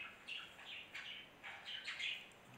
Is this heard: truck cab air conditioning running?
no